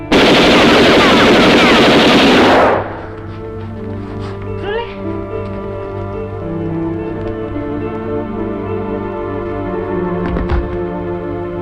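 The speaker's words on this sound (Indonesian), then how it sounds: "Sersan Biadi yang kemudian secara membabi buta melepaskan tembakan ke arah Yani." A loud burst of rapid machine gun fire lasts a couple of seconds, then cuts off, leaving a quieter background with faint thumps and talk.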